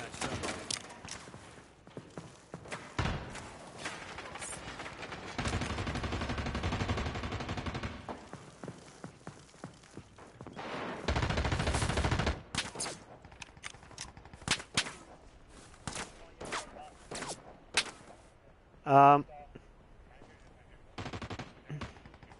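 Video game gunfire from a shooter match: scattered single shots and sharp bursts, with a few longer sustained volleys of automatic fire and brief gaps between them, loud and close.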